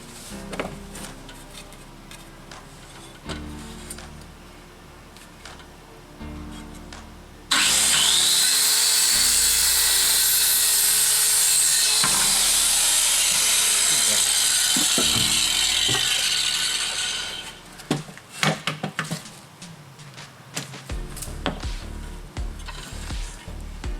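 A Procraft KR2000 circular saw fitted with a new blade cuts through wood: quiet mechanical clicks and handling come first, then a loud, sustained whining rip lasts about ten seconds before the blade spins down among scattered knocks.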